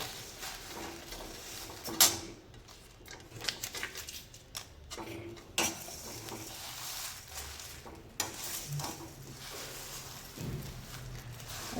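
Spices are dry-roasted in a pan and stirred, producing faint scraping and rustling with occasional clinks of a utensil against the metal, all quiet and close.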